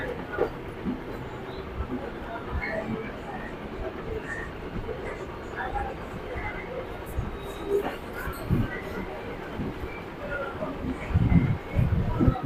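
A train rolls into Bagbazar station on the Eastern Railway with a continuous rumble and rattle of carriages, growing heavier near the end, while voices murmur in the background.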